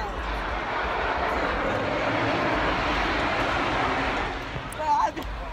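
Riders are aboard a dragon amusement ride at Six Flags during a grad night event, with a steady broadband rushing roar of motion and wind that holds throughout, and voices coming through near the end.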